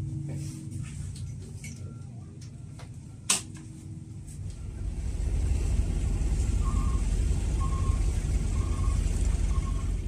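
The Express Bahari 88 fast ferry departs Siwa port, Wajo, South Sulawesi: a loud engine rumble builds and settles into a steady drone after a sharp knock, with faint beeps repeating over the churning motor.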